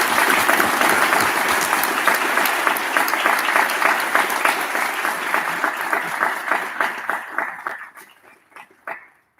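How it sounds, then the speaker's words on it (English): A graduation ceremony audience gives sustained, full applause that stays loud for several seconds, then thins into scattered claps and fades out. "I'd ask the graduates to join me in a round of applause for the family members and the faculty who helped them reach this milestone"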